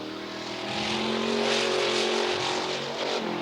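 Race car number 3 on a time trial lap at Coos Bay Speedway in 1988, a loud steady engine drone that swells as it passes near and then eases slightly, with no talk.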